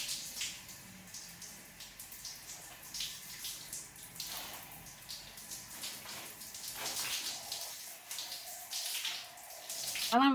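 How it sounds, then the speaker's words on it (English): Water running and splashing while shampoo is rinsed out of thick 4C hair, a continuous hissing spray with shifting splashes, close and fairly steady, with no talking over it. "Then I go ahead and I rinse the shampoo out."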